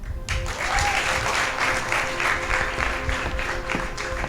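Sustained audience applause for a singer at a singing competition show, a dense, steady wash of many hands clapping at close range, loud and continuous with a faint crowd murmur beneath.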